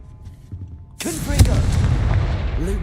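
In the Hogwarts Legacy video game, a Confringo spell explosion bursts loudly and suddenly, then a sustained rumbling roar trails behind it.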